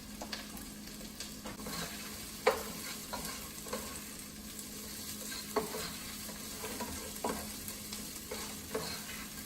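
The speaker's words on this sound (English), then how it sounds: "Let's go back and stir them onions a little more." Onions frying in a pan are stirred now and then. A faint, steady sizzle runs throughout, broken by soft scraping strokes of the utensil at irregular intervals.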